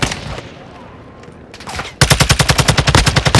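Rapid automatic fire from a TAQ-56 rifle in Call of Duty: Modern Warfare II, a loud close burst of evenly spaced shots after a short lull with scattered game sounds.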